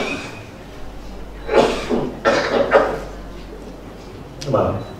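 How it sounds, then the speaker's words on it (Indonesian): Someone speaking in a mosque coughs several times, giving three or four rough, husky coughs in quick succession and then one more after a pause, close to the microphone over a faint, steady hum. "kalau nanti di tengah jalan batuk itu cuma gini"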